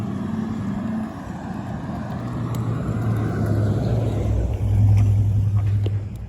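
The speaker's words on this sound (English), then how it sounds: "And here comes the V8." Toyota with a V8 engine driving past, a low engine drone that swells as it nears and then fades away, heard outdoors with no talk.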